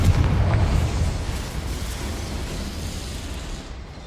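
A deep, booming explosive blast from the Confringo spell in the video game Hogwarts Legacy, loud at the start with a heavy low rumble that slowly decays into a fading roar over several seconds.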